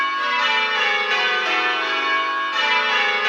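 A ring of church bells plays rounds, struck in steady descending sequence and sounding loud, close and sustained, with overlapping resonant tones and no voices.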